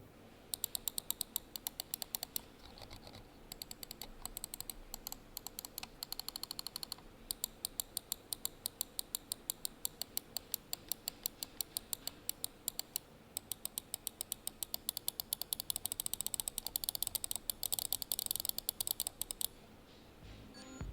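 Rapid clicking from a budget Sades Raiden S33 gaming mouse fitted with Black KLGM switches, sharp close taps repeated steadily in dense runs for about twenty seconds with only brief pauses.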